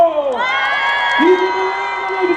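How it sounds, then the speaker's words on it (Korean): Crowd at a Korean political campaign rally cheering, with a loud sustained mass of voices and whoops filling the space, under a tonal sweep that falls and then steadies. "우리 대통령 이재명 후보를 뜨거운 박수로 맞이해주십시오"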